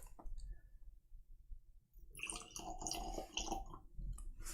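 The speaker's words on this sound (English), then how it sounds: "let's get straight to the pour and see what we are going to get today" Mortlach 10-year-old Signatory Vintage whisky at 56.6% pours into a glass after a few soft clicks and a quiet pause, a close, gentle liquid trickle and splash lasting a couple of seconds.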